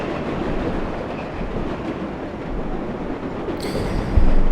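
New York subway trains rumbling past in the World of Subways 4 simulator, a dense continuous roar with clattering wheels on track and a brief high squeal near the end.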